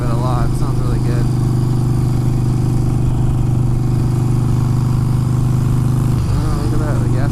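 A motorcycle engine drones steadily at close range, a loud low throbbing hum that holds constant, with someone talking over it near the start and end.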